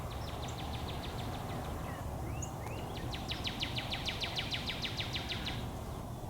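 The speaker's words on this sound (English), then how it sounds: "Plenty of active birds around here" Birds call in a Texas state park near Abilene: repeated high trilled rattling phrases and a few scattered chirps carry over a steady low rumble of distant road traffic.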